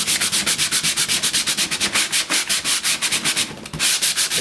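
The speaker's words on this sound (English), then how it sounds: "I'm going to be real sure that I sand this" Rhythmic back-and-forth sanding strokes with 100 grit sandpaper on a stained wood veneer finish before the final coat, loud and close, steady repeated rubs with a short pause near the end.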